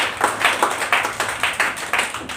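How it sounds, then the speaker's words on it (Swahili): A church congregation claps for a young man during a service, with quick rhythmic claps of roughly two to three per second that sound close and steady, and no talking over them. "Siupigie huyo kijana makofi."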